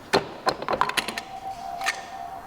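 A Vespa GTS crankshaft seal being forced out of a locked-up motor with a combination wrench, heard as a handful of sharp cracking snaps and clicks close by, clustered in the first second with one more a moment later.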